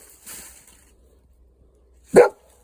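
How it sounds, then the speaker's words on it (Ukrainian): A single short dog bark, sharp and moderately loud, after a faint murmur and quiet background. "Ось собака"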